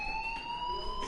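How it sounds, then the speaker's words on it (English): Fire alarm ringing inside a school building in the Life Is Strange video game, a steady electronic tone with a strong upper harmonic, holding continuously at moderate level with no talk. "do you hear that fire alarm?"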